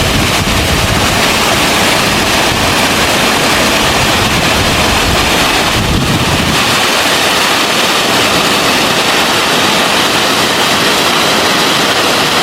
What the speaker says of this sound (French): je pense qu'il y a une cascade